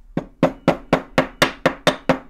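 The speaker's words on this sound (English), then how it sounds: "I just take a hammer." A hammer strikes the end of a wooden toothpick on a jewelry bench to spread its fibers, landing nine sharp, evenly spaced taps close up, with no talk.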